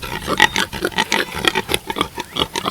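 Southpoll and Jersey pigs grunt and oink at a pig fence on a farm, a rapid series of close, rough snorting grunts with no talking.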